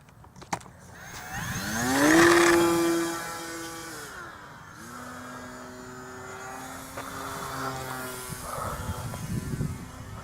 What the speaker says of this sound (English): Plane does fly on this.